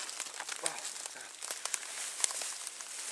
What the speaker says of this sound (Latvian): Mēs varam paņemt vienkāršo Tesco maisiņu.